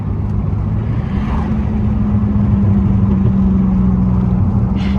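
Pontiac Grand Prix GT with its muffler deleted, a loud, steady, droning exhaust heard from inside the car while downshifting, with no clear pops.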